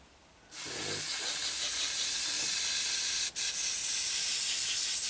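Cleaner sprays through a paint spray gun during an airsoft camo paint job, a steady close hiss that runs nearly unbroken with one brief cut partway through, and no talk.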